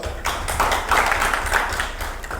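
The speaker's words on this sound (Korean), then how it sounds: "큰 박수 좀 주시고." A seminar audience claps for an arriving council member, a brief, moderately loud patter of hands in a meeting hall with no talking over it.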